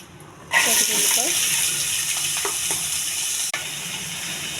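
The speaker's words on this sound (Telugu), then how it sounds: "ఇది కూడా పచ్చివాసన పోయే వరకు వేయించుకోవాలి." Chicken pieces stirred and fried in hot oil with cumin seeds, a steady bright sizzle starting abruptly and continuing close up with faint spatula scrapes, briefly dipping near the end.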